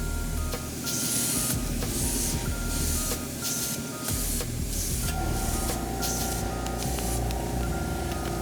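An airbrush or spray can hisses steadily while paint is built up in even coats on a handmade balsa wood mouse wake bait, continuous close spray noise with faint background hum and no talk.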